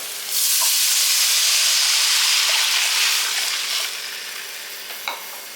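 Water poured into a hot pan for wheat rava kichdi hits with a sudden loud sizzle and steamy hiss that gradually softens, followed by a small clink near the end.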